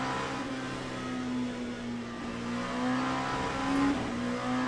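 An LMP2 race car engine in the racing game Le Mans Ultimate drones at a steady high pitch, with the revs rising and falling slightly through the lap and no voices over it.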